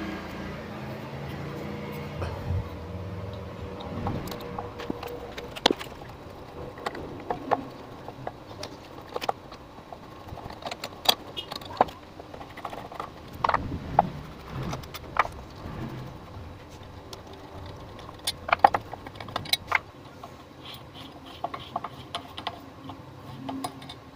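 Metal clicks, taps and small parts clattering as a carburetor removed from a Toyota Kijang car is taken apart on a bench, with irregular close tool and screw sounds over a low background hum.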